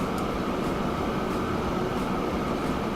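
A train in the Transport Fever game, heard as a steady, unbroken rumble of rolling wheels and carriage noise with no talk.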